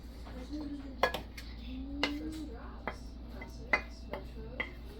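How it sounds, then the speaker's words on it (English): Onions, scallion and thyme going into a pot for Jamaican brown stew chicken, with sharp metallic clinks and taps of utensils against cookware at irregular intervals, close and moderately loud. "So I'm going to put the onions, scallion, and thyme in the pot, in this thing here."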